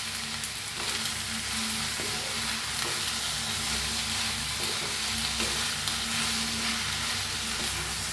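Drumstick (shevga) vegetable bhaji stirred in a hot frying pan, a steady loud sizzle with scraping strokes of the spoon against the pan repeating throughout, no talking.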